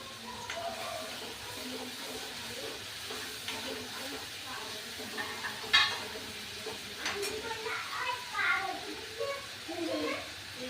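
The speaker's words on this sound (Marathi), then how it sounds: "मसाला टाकून घेतलाय मी वाटण केलेला" Ground spice paste fries in a pan while being stirred, with a soft steady sizzle and occasional scraping of the spoon at close range.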